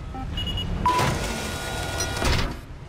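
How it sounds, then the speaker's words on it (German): A submersible hatch in Mass Effect 3 closes with a mechanical whirring slide, two surging motor-like sweeps over a low hum, punctuated by faint electronic beeps, no speech. "Schließe Luke."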